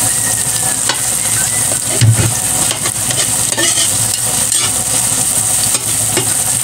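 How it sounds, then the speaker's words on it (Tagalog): Garlic and onion sauté in a pan, browning with a loud, steady sizzle and the occasional scrape of a stirring utensil, close and continuous throughout. "Medyo pa-browning po natin ang ating bawang kasi mas masarap po."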